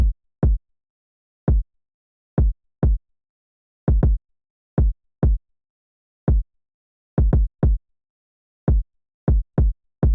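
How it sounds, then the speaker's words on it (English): A West Coast hip-hop kick drum played alone, deep booming thumps in an uneven, syncopated pattern with short gaps between hits. "The first thing I added was a kick drum that sounded like this."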